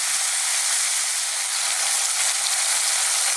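Pork curry with potato sizzles and fries in a pan over high heat, a loud, unbroken hissing crackle that holds steady throughout with no one speaking.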